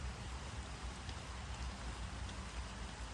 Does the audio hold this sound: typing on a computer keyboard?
no